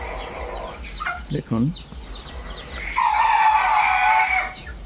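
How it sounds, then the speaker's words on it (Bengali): Fayoumi chickens on a poultry farm cluck nearby, and a long, loud crow or call follows in the second half. A person speaks briefly near the start. "আর এক সাইডে মুরগি দেখাচ্ছি আপনাদের"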